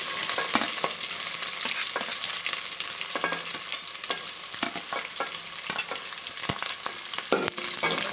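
Onions frying and being stirred in hot spiced oil for chicken biryani, a steady close sizzle with scraping stir strokes throughout, no voices.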